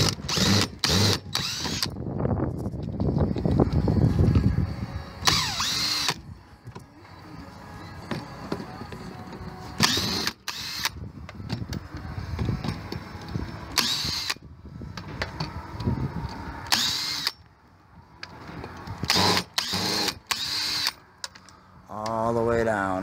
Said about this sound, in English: start unscrewing all these screws.